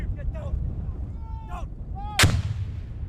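A single loud gunshot crack from a rifle during military para recruit training, close and sharp with a short decay, amid outdoor wind noise and faint shouted voices.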